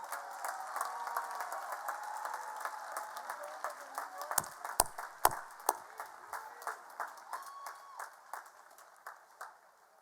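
Applause at a college commencement ceremony honoring graduates, a quiet distant wash of clapping in a large venue with a few loud close claps or knocks midway.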